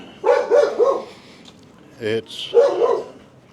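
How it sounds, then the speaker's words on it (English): A dog barking in a Southeast Asian neighbourhood: bursts of barking come and go over a few seconds, fairly loud and close, with gaps between them and a brief other sound in the middle. "You can't go 10 feet without having a dog barking at you."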